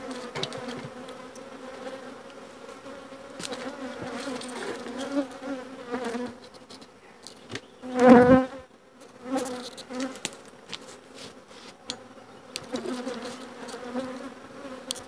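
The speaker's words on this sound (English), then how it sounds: "Get them bees to go back down in." A continuous hum of honey bees buzzing around a hive during a split, with one loud swell midway as bees pass close to the microphone.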